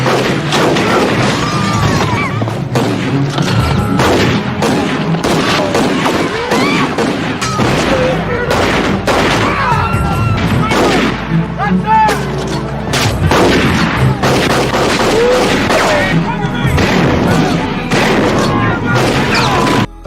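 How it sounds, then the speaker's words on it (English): Shootout in a film about a legendary gunslinger, with dense volleys of gunfire, booms and crashes throughout, loud and continuous, mixed with shouting voices and narration. "a customer draws a weapon, forcing Blackjack to gun him down, sparking a violent shootout"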